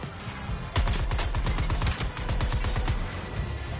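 Rapid automatic gunfire from the video game Suicide Squad: Kill the Justice League, a dense burst of repeated shots that starts under a second in and continues steadily to the end, loud and close.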